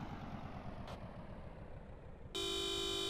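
In the survival video game Dysterra, a car engine idles quietly before the car horn blares a loud, steady honk that holds to the end.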